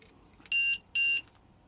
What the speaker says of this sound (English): if one of them drops, it lets me know with an audible alarm.